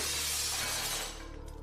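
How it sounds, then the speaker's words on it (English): Glass smashing and shattering into a burst of broad, bright crashing fragments that sustain loudly for about a second before settling into a fading tinkle. "the sound of shattered glass unintentionally attracted zombies"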